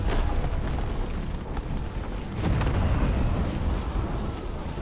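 Artillery booming across a battlefield in Empire: Total War, a dense, continuous wash of distant cannon blasts and rumble with no clear gaps, loud and steady throughout.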